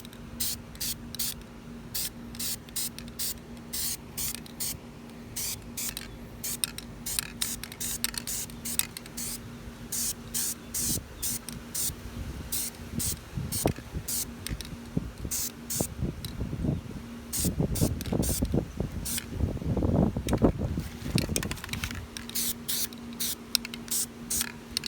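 Short hissing bursts of spray paint repeat steadily as a car rim gets another coat, with a low steady hum underneath and a denser stretch of spraying near the end.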